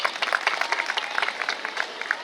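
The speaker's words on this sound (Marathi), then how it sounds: "म्हणून त्या ठिकाणी फादरांसाठी टाळ्या झाल्या पाहिजे" Audience applause for Father Wilfred Saldanha at his 75th birthday celebration, a dense, steady patter of many hands clapping throughout, moderately loud and close, with no talk over it.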